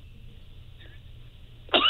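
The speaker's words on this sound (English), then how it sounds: "And that, yes, he's coughing." A man coughs once, a short sharp burst near the end, close and loud over a quiet room hum.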